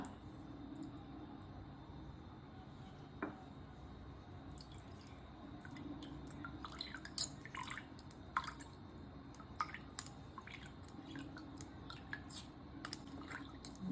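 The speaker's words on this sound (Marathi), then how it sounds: "हा रस म्हणजे हा कोकमचा रस आपण गाळणार आहोत" Mashed kokum pulp being strained by hand to make juice for solkadhi, liquid dripping and squishing in scattered small drops and pats, soft and close over a steady low background hum.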